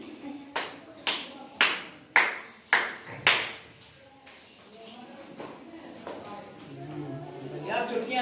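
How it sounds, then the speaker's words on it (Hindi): Six sharp hand claps ring out in an even rhythm, followed by a quieter stretch with scattered voices and murmuring. "तालियां सुनना ध्यान से"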